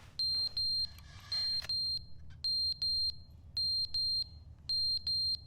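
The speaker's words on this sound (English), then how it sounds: "Is that supposed to be a smoke detector or?" Smoke detector in the video game The Stanley Parable, beeping loud and near in repeated paired high-pitched tones with short gaps, a burst of faint noise early between beeps.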